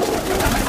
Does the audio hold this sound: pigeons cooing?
yes